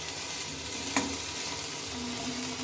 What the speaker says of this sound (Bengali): নাড়তে থাকতে হবে সাত থেকে আট মিনিট মতো কিন্তু এইভাবেই তোমাদেরকে নেড়ে যেতে হবে কিছুক্ষণ পরপর